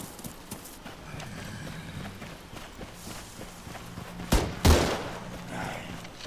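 Gunshots ring out in the Arma 3 Breaking Point game, a run of soft distant pops under a thudding rhythm of steps, then two louder close bursts near the end.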